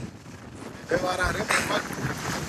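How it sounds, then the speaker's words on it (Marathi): Strong wind buffets the microphone at Devgad harbour, low and faint with gusty bursts, and voices talk over it in places. "वारा एवढा आहे ना"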